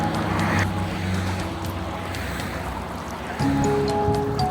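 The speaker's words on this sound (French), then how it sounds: "Je suis tombé sur ce petit ruisseau ou une canalisation à l'air libre qui est là sûrement pour arroser les champs" A small open irrigation channel runs beside fields near Remchi outside Tlemcen, its water giving a steady close rushing wash mixed with faint outdoor tonal hums, and no voices.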